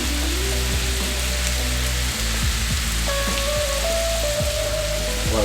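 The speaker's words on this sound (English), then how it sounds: "Put my onions over here." Onions hit oil on a hot griddle for cheesesteak sliders, giving a loud, dense, rain-like sizzle that stays steady and close. Faint metallic tones and brief clicks come through over the hiss.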